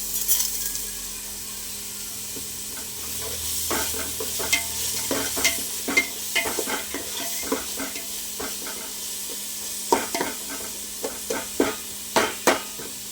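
Tomatoes with salt sauté in a pan for a chicken and mutton curry, a steady sizzle broken by repeated scraping stirs and clinks that grow sharper near the end, with no talking.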